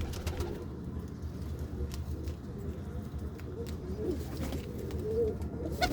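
A pigeon coos repeatedly in low, soft throaty calls close by, against a steady background hum with occasional faint chirps.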